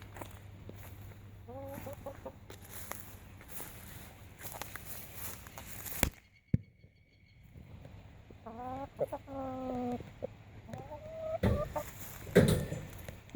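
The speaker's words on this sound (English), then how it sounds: "I'm going to be careful of this rooster." A rooster around a permaculture garden with goats gives short clucking calls in several bursts, close by, with scuffling and faint outdoor background between them.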